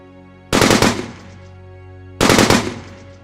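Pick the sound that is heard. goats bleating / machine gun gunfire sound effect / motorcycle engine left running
machine gun gunfire sound effect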